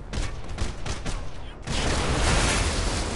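Rapid bursts of automatic gunfire in the video game Red Faction Guerrilla, loud and dense, climbing into a sustained barrage of overlapping shots midway through.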